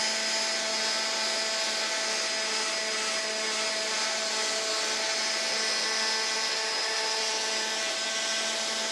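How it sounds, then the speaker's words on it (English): A power sander works over the boards of a DIY wooden twin bed frame, producing a steady, unbroken high whine with a hissing abrasive texture that holds at even loudness throughout. "Sanding is done and everything looks nice."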